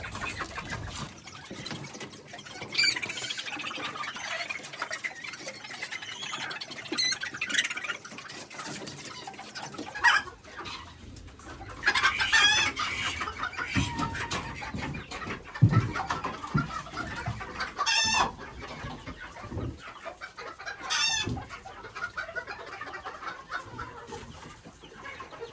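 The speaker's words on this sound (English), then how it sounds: "3 little pullets that are gonna go with those young roosters over there I showed you." Chickens of an Old English Game breed, including young pullets and roosters, cluck at close range inside a new barn setup, with scattered sharper crows and calls rising over a steady background of fowl chatter and no speech.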